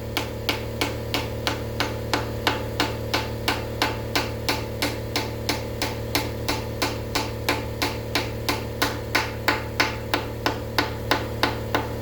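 Steady, evenly spaced hammer blows drive wooden pieces into place while fitting a sealing block on a Triumph TR6, about three strikes every second, close and alone over a low constant hum.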